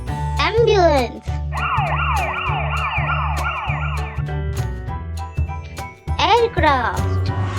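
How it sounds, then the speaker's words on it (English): Ambulance siren from a children's vehicle-sounds lesson: a steady, loud up-and-down wail cycling for nearly three seconds, with a brief bright vocal jingle at either end over a soft backing beat. "Ambulance."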